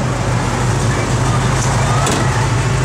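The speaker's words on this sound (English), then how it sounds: "Blower motor is working" Heater blower motor of a 1970 Dodge Challenger convertible running: a steady, loud broadband whoosh with a constant low hum, unbroken from start to finish.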